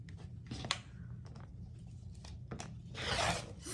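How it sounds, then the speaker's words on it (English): Quilting fabric strips folded double being cut, giving soft, quiet rasping snips and slicing strokes in short bursts, with a longer scraping cut near the end. "I've doubled over my strip so that I can cut 2 at a time"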